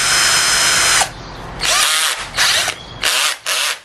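A flood-damaged power drill being run after repair at high speed, in loud close bursts of whining motor that start and stop several times, with no talk.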